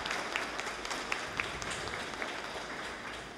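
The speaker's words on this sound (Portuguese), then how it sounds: "eu queria aplausos para Antônio Vitor da Fonseca" An audience applauds in the Fortaleza city council chamber during a tribute to Brazilian FEB war veterans, a soft, scattered patter of clapping that stays fairly distant and even for a few seconds.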